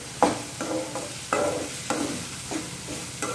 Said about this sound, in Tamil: இதையும் இதில் சேர்த்து அந்தளவு வதக்கணும்